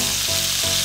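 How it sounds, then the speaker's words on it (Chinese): Squid and onion sizzle loudly while being stir-fried in vegetable oil, a close, continuous frying hiss with brief stirring shifts. "首先快速爆炒鱿鱼"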